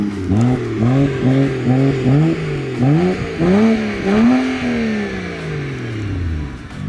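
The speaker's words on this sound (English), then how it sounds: "This street bike is going so fast." A street motorcycle speeds past at high speed, its engine note rising and falling through repeated revs and gear changes before a long falling pitch as it pulls away, loud and close with no talk over it.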